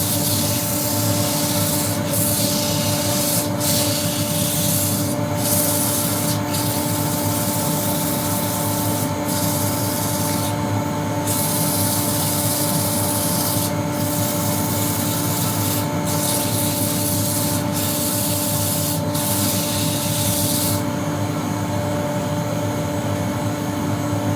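Wooden pestle and mortar being sanded at 150 grit on a wood lathe, a steady loud rubbing hiss over the continuous motor hum, with brief pauses and shifts in the abrasive scratch throughout.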